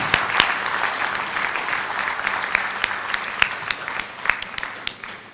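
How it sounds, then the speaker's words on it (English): Audience at a business summit applauds sponsors, a full clapping wash with individual sharp claps popping out near the front, thinning gradually toward the end. "Please, a warm round of applause."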